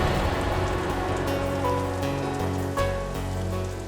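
Heavy rain falls steadily on a hilly road where a landslide has blocked traffic. It is a dense, continuous hiss of drops striking surfaces, close and loud throughout.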